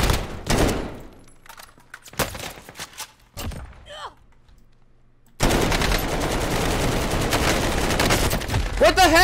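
Warzone gunfire comes in bursts: rapid automatic shots, then scattered single cracks and a near-silent gap, before a long, loud sustained barrage takes over the rest of the clip.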